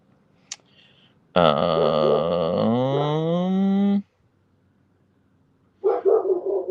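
A single long, drawn-out dog howl or bark with strong harmonics, lasting a few seconds, followed after a pause by a shorter burst of similar vocalizing.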